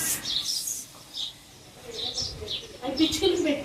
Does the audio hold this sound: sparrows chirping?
yes